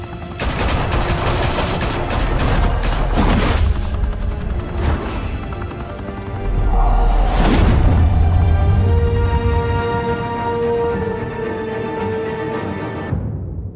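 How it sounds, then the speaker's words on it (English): Gunfire in Batman: The Telltale Series, loud sustained automatic bursts with heavy impacts and crashes, rising and easing across the scene before cutting out. "Now we only have to take one of you down. Open fire!"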